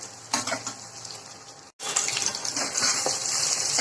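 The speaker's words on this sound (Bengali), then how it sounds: "একটু ভালো করে ফ্রাই করে আমি আলুগুলোকেও ভালো করে ফ্রাই করে নেব" Potatoes fry in a pan with a steady hiss and crackle that cuts out briefly, then comes back louder and denser, with no talk over it.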